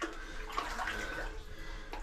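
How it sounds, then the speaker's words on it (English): Wading through deep water and mud inside an old gold mine tunnel in New Zealand, with continuous close sloshing and splashing as someone moves slowly in a crouch. "I'm fully crouched over here and deep in the water and mud again."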